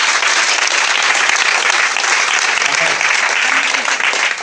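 A church congregation applauds loudly and continuously, a dense wash of clapping with faint voices underneath.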